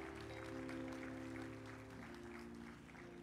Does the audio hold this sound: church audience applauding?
yes